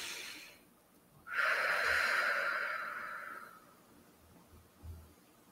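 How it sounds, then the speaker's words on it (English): One slow, deep breath is drawn in and let out during a guided meditation, a soft, airy rush that swells and then fades over a few seconds, close and quiet, with no talk. "Taking in a few more deep, nourishing breaths"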